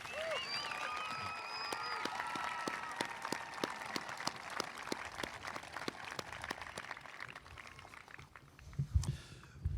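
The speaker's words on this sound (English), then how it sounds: "Please recognize these graduates with your applause." Applause from the audience at a college commencement, with graduates being recognized, sounds as a steady wash of clapping with crisp separate claps in a large hall. Brief whistles and cheers rise early on, and the clapping thins near the end.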